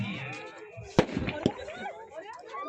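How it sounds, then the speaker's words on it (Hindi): Fireworks and firecrackers burst over a cricket ground during a tournament, with two sharp, loud pops standing out against a background of crackling and someone talking. "इस वक्त देखा जा रहा है आतिशबाजी भी की जा रही है पटाखे भी फोड़े जा रहे हैं"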